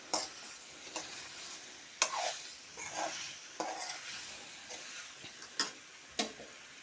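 Dal fara frying in a pan over a high gas flame while being gently stirred. Soft, steady sizzling runs beneath a series of sharp, irregular ticks and scrapes from the utensil against the pan, with no talking.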